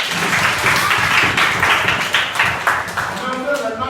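Children in a library session clap together in a steady rhythmic burst, close and lively, with voices mixed in over the applause.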